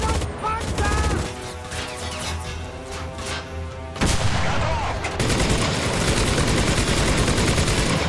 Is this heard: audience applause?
no